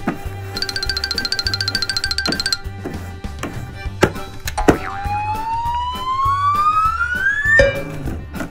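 Siren sound used as a clue in a picture-guessing game: a loud electronic warbling siren, then several sharp thunks and a rising wailing siren tone that climbs steadily, with no talking.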